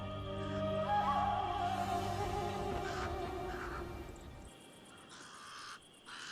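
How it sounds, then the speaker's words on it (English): Harsh calls of pied crows ring out repeatedly over a low steady hum, with a few sharper caws cutting through before the sound thins toward the end, near a desert watering hole. "The pied crows are getting worked up about something."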